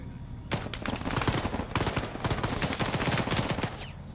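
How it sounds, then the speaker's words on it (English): Gunfire during a military operation: rapid, overlapping volleys of shots crackle almost without pause, dense and sustained, heard at a moderate distance. "That guy just got shot."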